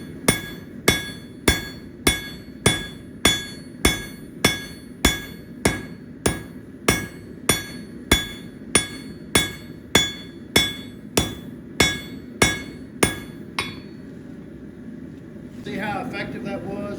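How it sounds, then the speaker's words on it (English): A diagonal peen hammer strikes hot metal in blacksmith forging, about twenty evenly spaced ringing blows, loud and close, before the hammering stops and a low background rumble remains. "Okay, here we go with a diagonal peen. Working on getting some more width."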